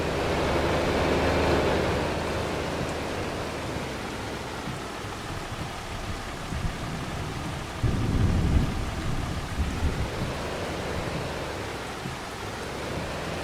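Steady rain falling in Farming Simulator 25, a continuous wash of hiss with a low rumble swelling briefly near the middle, heard alone without talk.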